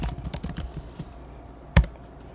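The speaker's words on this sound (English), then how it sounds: "Sorry, you guys can't see what I'm typing over here." Typing on a computer keyboard at a desk, a quick run of close, crisp key clicks that thins out and ends with one sharper, louder keystroke.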